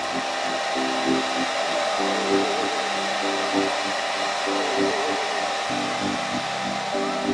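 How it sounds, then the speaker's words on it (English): A handheld blow dryer runs continuously while drying hair with a brush, a loud, steady close-up whoosh with a faint wavering hum as it passes along the hair, alone without talk. "To blow dry my hair, all I do is use a brush and brush through my hair and follow the blow dryer down my hair."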